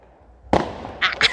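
Fireworks explode in a sharp burst followed by two quick crackling pops in rapid succession, fairly close and loud, all within about a second.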